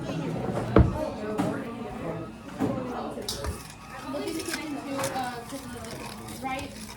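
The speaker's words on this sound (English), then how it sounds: "Whisk together." Ingredients with a pinch of salt are whisked in a bowl, giving quick irregular clinks and scrapes of metal against the bowl, moderately close, with people talking and a voice over it.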